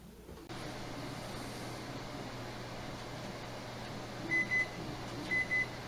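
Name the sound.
kitchen timer going off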